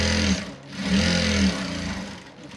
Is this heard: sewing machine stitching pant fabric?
yes